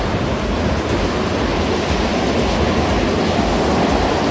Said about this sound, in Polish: Ale dzisiaj sztorm.